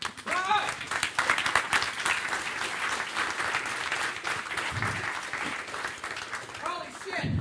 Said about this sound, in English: Hey, where's the applause?